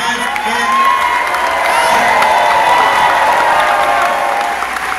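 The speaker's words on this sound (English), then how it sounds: "You should clap your hands" A church audience claps and cheers during a praise service, a loud, sustained roar of hands and whoops filling the room, with a few shouting voices mixed in.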